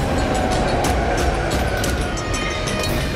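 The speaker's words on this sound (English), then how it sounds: "Got a train on." A train runs past at around 80 km/h on a busy Australian rail line where track maintenance workers stand clear, a steady loud roar and rumble close by with rhythmic rattling throughout.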